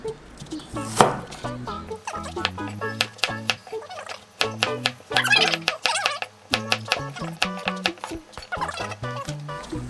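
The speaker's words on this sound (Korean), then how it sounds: "양파 반개 120g 이렇게 큼직하게 썰어주시면 되고요" Half an onion is cut into big chunks with a knife on a cutting board, giving a run of close, crisp chopping strokes at an uneven, steady pace, with faint voices in the background.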